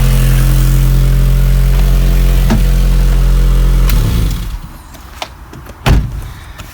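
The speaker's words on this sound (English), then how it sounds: "Is just blowing here. It's just broken off and rust and everything." A Honda Jazz with a broken, rusted exhaust pipe blows out a loud, steady, low rumbling drone close by for about four seconds, then the engine cuts off, leaving quiet background and a couple of faint knocks.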